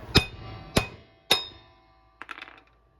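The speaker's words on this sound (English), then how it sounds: "you give it a wallop with a hammer" Three sharp metallic hammer blows on a nut, struck about half a second apart to drive out a wheel stud on a 1960 Impala, followed by a lighter rattling clink.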